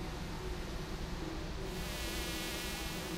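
Swarm of bees in Psychonauts 2, a dense, continuous buzzing drone that stays steady and close for the whole stretch, with no voices over it.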